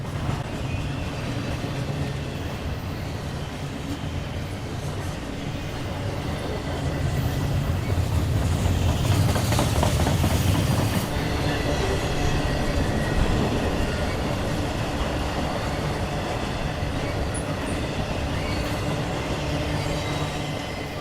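A BNSF intermodal freight train rolls past in Galesburg, Illinois, its wheels rumbling and clattering continuously, swelling louder midway with faint squeals over the steady roar.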